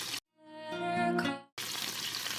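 A cheeseburger fries in hot grease, giving a brief sizzle between quiet gaps that rises and fades over about a second before a louder burst of spattering returns.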